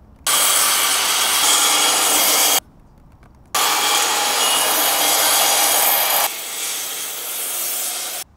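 A saw cuts a groove into wooden bridge deck planks, chain-link wide, in loud sustained rasping passes: a long stretch, a brief pause, then another long pass that eases slightly quieter toward the end.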